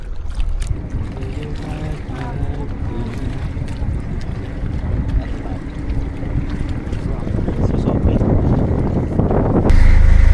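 Steady wind buffets the microphone over a boat's low engine drone and splashing water, growing louder toward the end.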